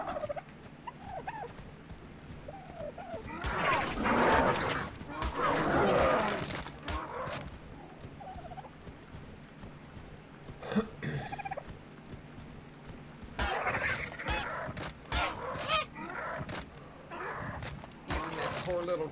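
In the video game Ark: Survival Evolved, a chicken's bursts of clucking, squawking and gobbling come and go over quieter stretches, with someone talking in between.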